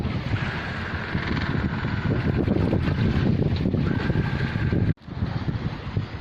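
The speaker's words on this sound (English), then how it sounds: "The wind's probably just touching about 15 knots with a few bigger gusts." Wind of about 15 knots with gusts blowing over a sailboat under headsail off the coast, a loud continuous rushing roar buffeting the microphone, broken by a brief sudden drop before resuming.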